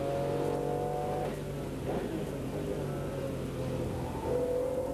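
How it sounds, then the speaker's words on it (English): A Porsche race car in a 1991 Porsche Club GB Championship race runs over a rumble strip, giving a steady droning engine note at moderate distance with small shifts in pitch and no talk. "It's on the rumble strip there."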